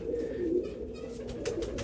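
Close Meerab-bloodline pigeons coo in low, throaty bursts, a few rolling calls repeated over a faint background.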